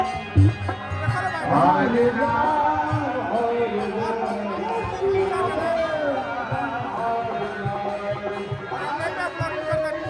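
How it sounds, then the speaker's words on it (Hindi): A dense crowd at a fair fills the air with a continuous murmur of overlapping voices and chatter, close and busy, with one voice occasionally standing out above the babble. "इतना ज़्यादा भीड़ लगता है, बहुत ज़्यादा भीड़ लगता है।"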